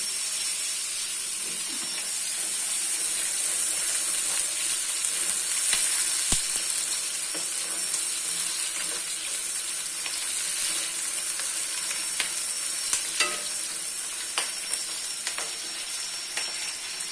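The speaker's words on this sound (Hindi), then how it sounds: "प्याज को कर लेते हैं फ्राई।" Onions fry in hot oil in a home kitchen for a Pakistani sehri meal, a continuous bright sizzle and hiss with occasional small pops and clinks of stirring, heard alone without voices.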